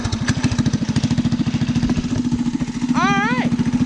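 A rat rod's small engine running with the choke on, its close, steady, rapid putter pulsing evenly throughout, with a brief rising whistle-like squeal near the end.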